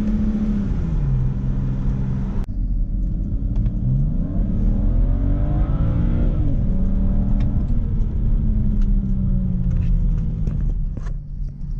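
A car engine climbs through its gears, pitch rising and dropping with each shift as the vehicle accelerates, loud and close throughout.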